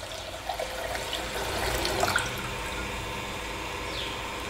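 Water pours steadily into a pressure cooker holding rice and milk for pongal, a continuous splashing gush that swells in the middle, heard close with no talking.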